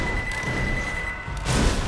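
Firework explosion in the video game Left 4 Dead 2: a steady low background of game noise gives way to a sudden loud, booming burst near the end that lingers briefly.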